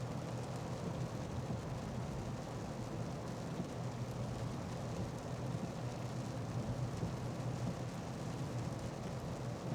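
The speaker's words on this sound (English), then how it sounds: "So it's raining harder." Heavy rain pounding a car during a drive, a dense, steady roar of drops on the roof and glass mixed with road rumble, loud and unbroken throughout with no one speaking.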